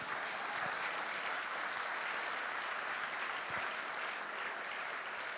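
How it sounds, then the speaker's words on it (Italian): An audience applauds steadily for several seconds, a dense, even patter of clapping heard faintly from a distance, with no voices over it. "Io intanto farei veramente un applauso più forte a Paola"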